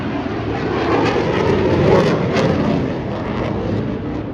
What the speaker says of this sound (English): There is the typhoon in the Blackpool Air Show.